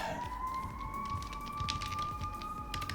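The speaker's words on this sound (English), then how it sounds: "Again, sorry about the sirens." Police sirens wail across a big city, a steady, slowly rising tone carrying from some distance over a low rumbling urban background.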